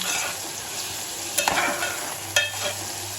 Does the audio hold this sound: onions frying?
yes